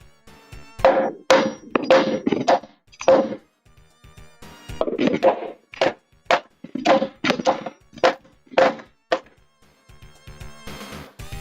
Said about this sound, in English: Might even be able to use the big hammer